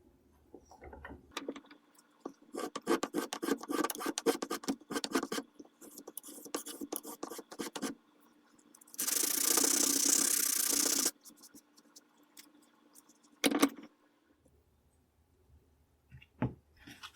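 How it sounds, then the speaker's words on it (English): Hand sanding on a wooden military rifle buttstock, with bursts of brisk rhythmic scraping strokes separated by pauses and a louder sustained rasp in the middle. "I'll finish sanding the buttstock"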